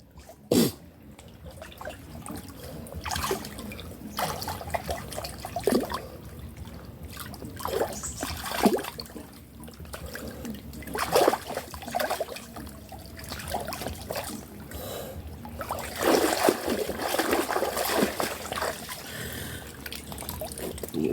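Cold tap water runs while a person washes up, a faint, continuous trickle and splashing with intermittent louder splashes and drips over about twenty seconds.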